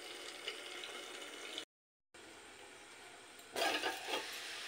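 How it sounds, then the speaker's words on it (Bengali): Chunks of taro (kochu) fry in oil in a covered pan for a taro dom dish, giving a steady low sizzle that breaks off briefly, then a louder crackling burst near the end. "তো একটু লাল করে কচুটা ভেজে নেব"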